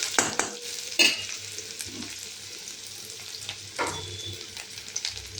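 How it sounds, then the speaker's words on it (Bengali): Chopped onions fry in hot oil for khichuri, a steady crackling sizzle broken by a few louder scrapes and stirs of the pan, close up with no voices. "পেঁয়াজ কুচিগুলো দিয়ে দেবো আগে, পেঁয়াজটাকে লাল লাল করে আগে ভেজে নেব"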